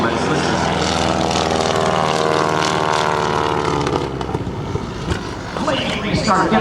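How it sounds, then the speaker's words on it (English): An aerobatic airplane's propeller engine drones loud and steady, then stumbles and fades as it sputters and quits, with an uneven surge near the end, under talk from an announcer. "this is a chance that you will hear now this airplane engine sputter and quit"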